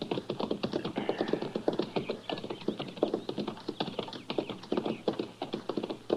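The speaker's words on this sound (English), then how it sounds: "That's horses down there, Chester." Several horses' hooves clip-clop in a steady, busy rhythm on a road below, continuous and moderately loud with no voices over them.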